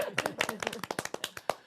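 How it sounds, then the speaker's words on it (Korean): Church congregation briefly clapping to encourage one another, a short, soft burst of scattered individual claps heard fairly close. "오늘 서로 박수로 한번 격려하겠습니다."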